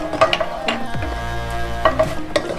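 Raisins frying in a hot pan for Tamil bread halwa, a steady soft sizzle broken by a few sharp stirring scrapes and clinks of a spoon against metal, close up with no talking.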